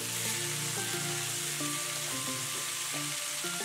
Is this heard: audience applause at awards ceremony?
no